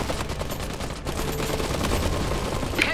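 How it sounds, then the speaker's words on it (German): Rapid gunfire in the WWI-era strategy game Iron Harvest, with bursts of overlapping machine-gun and rifle shots crackling densely and continuously in a busy battle mix. "Die schießen auf uns!"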